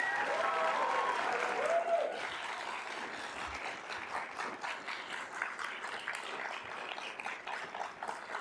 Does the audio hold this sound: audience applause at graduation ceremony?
yes